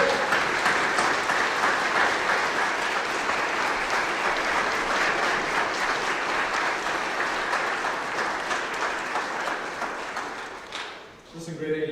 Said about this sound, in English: round of applause for grade 8.